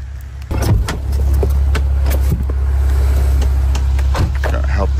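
A pickup truck engine idles loud and steady throughout, a constant low rumble with a few brief knocks and clicks on top, recorded on a roadside at night.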